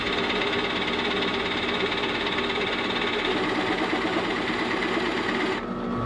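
Steady high-pitched whine of a drill boring holes into the end of a wooden swing arm for a workshop laptop stand, running continuously and loud at close range before cutting off near the end.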